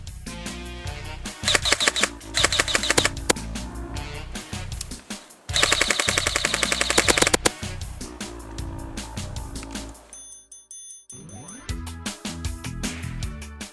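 An airsoft gun fires in rapid automatic bursts, the shots coming as dense rattling strings separated by short pauses, with a brief mechanical whir and a few single clicks between bursts.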